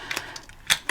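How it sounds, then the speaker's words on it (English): A corner rounder punch cuts a paper corner, giving a few quick, close, crisp clicks and snaps in under a second. "So sometimes corner rounding can make stuff look just a little nicer. So we'll corner round it."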